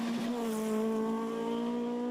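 A Mark II rally car on a tarmac rally stage holds a steady, buzzing engine note at high revs, sounding fairly close as it passes.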